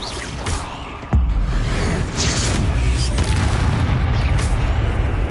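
Hogwarts Legacy's Confringo fire spell lands with a sudden, loud boom about a second in. A roaring, rumbling blast wash follows and holds steady to the end.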